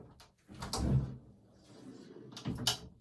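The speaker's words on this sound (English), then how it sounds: "now, when I go and I open the door," An indoor door swings open with a soft scraping, rattling movement, in two short bursts separated by a quieter stretch.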